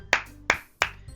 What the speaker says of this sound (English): Now let me applaud.